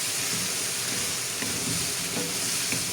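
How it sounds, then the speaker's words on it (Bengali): Vegetables being stirred into a curry gravy in a pan, with a steady close sizzle and soft scraping stirs throughout, no voices. "এখন সবজিটা দিয়ে আমি গ্রেভির সাথে ভালোভাবে এভাবে মিশিয়ে নিচ্ছি।"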